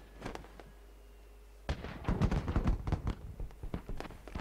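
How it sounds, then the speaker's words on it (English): Fireworks in the video game Batman: Arkham Asylum: a quiet stretch with a couple of faint pops, then a loud dense run of overlapping bangs and crackles that continues to the end. "Fireworks."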